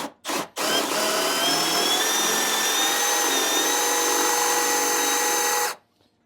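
A power drill bores into birdhouse wood with a Forstner bit, a steady close whine with rising harmonics that runs for about five seconds after two brief starts, then stops cleanly.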